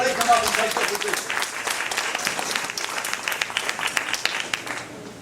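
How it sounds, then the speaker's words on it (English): An audience applauds as the first six players of a math quiz show walk up and take their positions, steady clapping throughout with a few voices underneath, tapering slightly at the end. "Let's applaud for our first 6 players as they come up and take their position."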